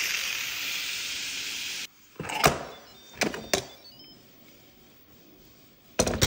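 Steam hisses loudly and steadily from a pressure cooker during a quick release while pho broth is being made. The hiss cuts off sharply, then clicks and clunks follow as the lid and valve are handled.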